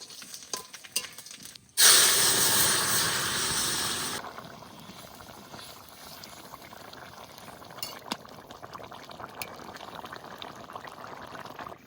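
Bay leaf and cumin seeds dropped into hot oil in a pan, a sudden loud sizzle that bursts out and fades after a couple of seconds, followed by quieter kitchen clatter.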